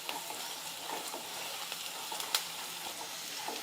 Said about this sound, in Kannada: ಈಗ ನೋಡ್ರಿ ಒಗ್ಗರಣೆ ಎಲ್ಲ ಫ್ರೈ ಆಗೈತಿ, ಉಳ್ಳಾಗಡ್ಡಿ ಎಲ್ಲ ಫ್ರೈ ಆಗ್ಯಾವು.